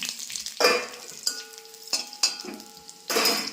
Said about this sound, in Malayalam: അതുകൊണ്ടിട്ട് നമ്മൾ വറ്റൽ മുളക് ഇട്ട് കൊടുക്കും.